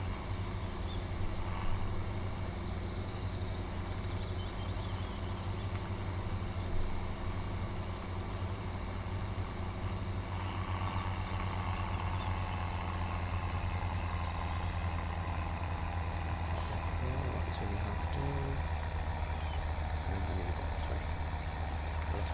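A tractor engine in Farming Simulator 17 idles in a low, steady drone with a faint mechanical rumble, quiet and unchanging throughout, with no talking.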